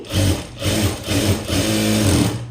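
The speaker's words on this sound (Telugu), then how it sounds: "ఇలాగా ఇలాగ మనం డబుల్ స్టిచ్ వేసుకొని" A sewing machine double-stitches a blouse seam close up. Its motor hums in steady bursts, with brief slowdowns between runs, and no voices can be heard.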